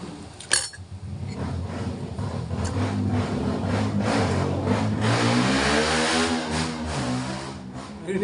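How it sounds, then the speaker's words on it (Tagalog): A motorcycle engine passes outside a home kitchen, rising from a sharp clink into a loud, steady revving drone that swells in the middle and holds to the end, with no talking. "Narinig niyo yan? Ganyan mga motor dito sa amin."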